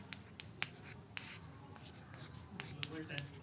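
Pen or chalk writing out a maths answer in a classroom lesson, a run of short scratchy strokes and taps, close and fairly quiet, with faint background murmur.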